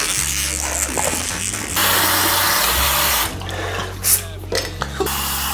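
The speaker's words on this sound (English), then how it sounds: "Cold water on the face is a must." A tap runs with water rushing and splashing as a face is washed with cold water, a loud, close, steady gush that shifts and sputters with hand movements.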